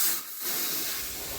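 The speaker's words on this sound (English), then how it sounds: "So we're pulling this out, slipping it in between these two plates, blowing compressed air on it." Compressed air blows steadily across a freshly plate-quenched AEB-L steel Bowie knife blade clamped between two metal plates, a close, continuous airy hiss after a brief dip at the start.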